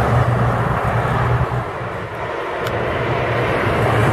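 A G8 bus passing on the Anhanguera highway, a steady loud engine and road roar rolling by up close, with broadband traffic noise throughout and no talk.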